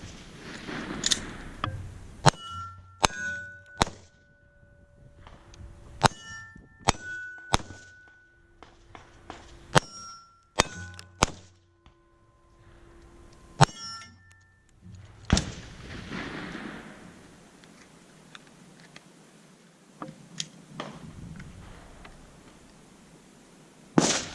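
Sharp gunshots with ringing metallic gong hits from bullets striking steel targets at a tactical shooting range training session, fired in quick pairs and bursts with lingering tonal rings between shots.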